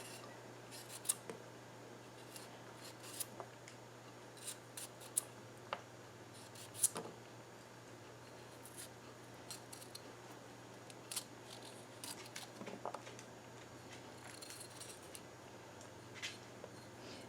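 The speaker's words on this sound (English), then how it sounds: "just take and peel all this outer hard stuff off of here" The tough outer skin is being peeled off a broccoli stalk, with quiet close scraping and sharp little snaps and tears at irregular intervals over a faint steady hum.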